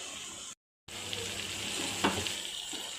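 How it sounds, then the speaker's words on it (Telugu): A curry tempering of spices hitting hot oil in a pan gives a bright, steady close-up sizzle, broken by a brief dropout, then resuming with a small clink partway through. "ఇప్పుడు పోపు వేసాను."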